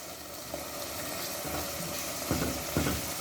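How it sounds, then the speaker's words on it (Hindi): Keema mince with peas fries in a pan, giving a steady, close, loud sizzle throughout with a few brief stirring scrapes near the end. "तो इसको मैं अच्छी तरह से भून लूँ।"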